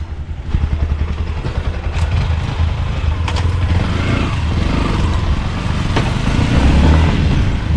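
A trail motorcycle engine running close by, a loud continuous idle-like rumble with some mechanical clatter, steady throughout with a slight rise near the end.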